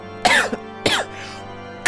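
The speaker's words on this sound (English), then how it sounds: "all of a sudden I just have this random, like, strong cough today that's come out of nowhere" A person gives a strong, harsh cough in three separate bursts, close and loud, with a low game soundtrack humming faintly underneath.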